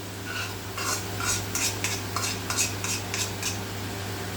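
Spice paste stirred into hot oil for chicken curry, with a steady low sizzle under a series of close scraping strokes and light clinks of utensil against the pan, no voices.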